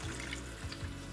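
A splash of water hits paprika in a soup pot for Frankfurt soup, a steady rushing pour blended with faint sizzling from the hot pan, close and continuous.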